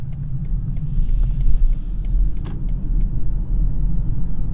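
A 2021 BMW X5 45e plug-in hybrid pulls away in electric mode, heard from inside as a steady low road rumble with tire noise and a few faint clicks, no engine roar.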